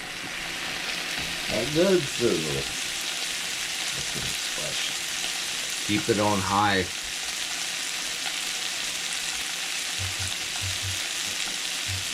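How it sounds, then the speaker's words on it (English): Steady hissing sizzle of onions frying in a hot pan for French onion soup throughout, with a couple of short bursts of speech over it. "when you get that good sizzle,"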